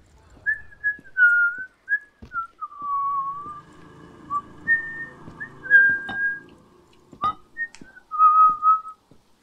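A person whistles a wandering tune in short phrases, close and clear, with a few sharp clicks and thuds between the notes and no talking, during a zombie video game.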